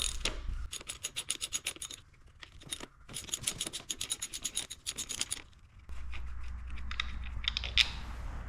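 Ratchet wrench clicking as it loosens the 12mm brake caliper bolts on a Honda CRF 150R dirt bike, rapid bursts of close metallic ticks separated by brief pauses.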